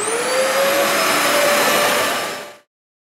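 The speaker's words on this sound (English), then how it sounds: "vacuum the entire house with a weight vest on" A vacuum cleaner runs loud and steady with a high whine while a house is vacuumed, then cuts off abruptly after about two and a half seconds.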